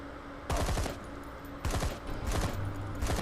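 Bursts of machine-gun fire in the zombie video game Zombi, three loud rapid volleys separated by short pauses, with no talk.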